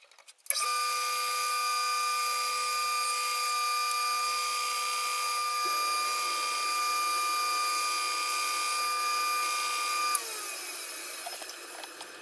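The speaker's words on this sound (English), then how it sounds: "Again, here I'm drilling partway through, and then I will finish these holes after I cut the whole block in half." A benchtop drill press with two inches of travel drills partway into a solid wooden block, a steady high-pitched motor whine with sustained tonal hum that runs unbroken, then changes pitch and winds down near the end.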